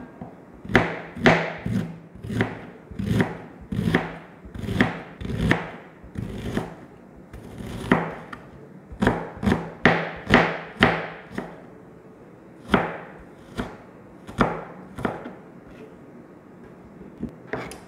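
A knife slices onions on a cutting board in a steady run of sharp, close chops, roughly one per second, with brief pauses between bursts. No talk.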